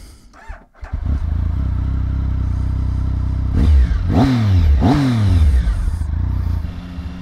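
A 2013 Triumph Speed Triple 1050 three-cylinder motorcycle idles with a steady rumble, then revs sharply twice in quick succession, each blip rising and falling back to a close, loud idle with no talking.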